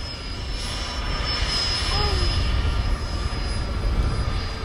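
An electric jet aircraft hovering, a steady high-pitched whine with a constant whooshing rush of air, loud and close, with occasional voices in the background.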